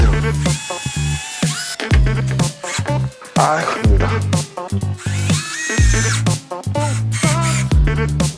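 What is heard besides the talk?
power drill driving screws into wooden board at low torque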